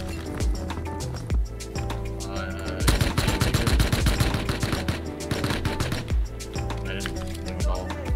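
Rapid automatic gunfire from a shooter video game rattles in dense bursts over background game music, with louder sustained firing in the middle stretch.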